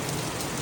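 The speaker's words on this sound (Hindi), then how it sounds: "फिर से बारिश शुरू हो गई हमारी चाय पीते पीते" Monsoon rain falls at a hillside homestay in Kurseong, West Bengal, a dense, steady hiss of drops that fills the brief moment evenly and closely, with no voices.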